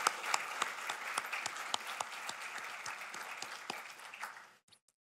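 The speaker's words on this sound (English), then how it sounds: "I think that was a round of applause." At a remembrance ceremony honoring Prof. William F. Bundy, a crowd claps steadily for several seconds, with a few sharp nearby claps standing out, before the applause fades abruptly into silence.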